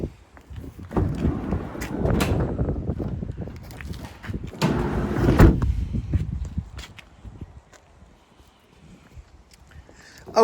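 The sliding side door of a Vauxhall Combo Electric van is worked by hand, giving two rolling, rumbling slides with clunks and knocks, close by, followed by quieter handling sounds.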